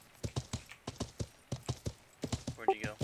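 Horse hooves clip-clop in the Life is Feudal video game, a steady run of close, crisp double-beat strikes with a brief whinny near the end.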